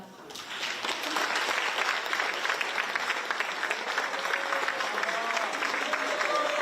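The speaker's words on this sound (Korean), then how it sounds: "한 분 한 분 소개해 드릴 때마다 뜨거운 박수 보내주시기 바랍니다." An audience at a government workshop gives warm applause as the prime minister is introduced, a sustained, dense burst of clapping swelling after a brief quiet start and holding steady, with a voice faintly audible beneath it.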